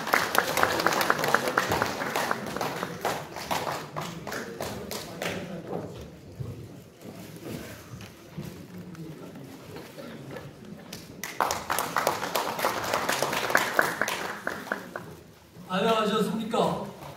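Audience applause at an award ceremony, a dense burst of clapping that fades into a quieter stretch and then swells again before a brief pause and a final spatter, with an announcer's voice heard briefly.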